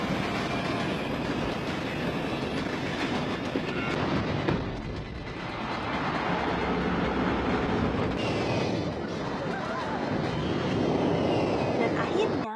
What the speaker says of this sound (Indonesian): pesawat pun berhasil mendarat dengan selamat